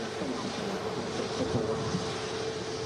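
A steady, broad roar from a TUI Dreamliner airliner departing Manchester Airport fills the whole stretch evenly, loud and continuous without breaks.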